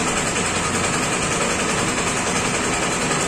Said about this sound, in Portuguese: Como vocês podem ver aí, voltamos o escapamento original na moto.